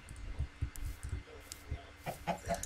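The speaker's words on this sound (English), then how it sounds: "This is a chicken." A Minecraft chicken clucks in short, soft, repeated bursts, quiet and close, mixed with light game sounds.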